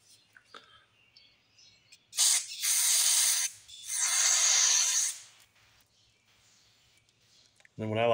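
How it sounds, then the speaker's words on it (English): Carb cleaner sprayed through the tiny passages of a 1978 Lawn-Boy mower carburetor, two loud hissing bursts of a few seconds each, close up, with quiet handling noises between and a short voice at the end. "put the carb cleaner in this end, make sure it's going through them little holes"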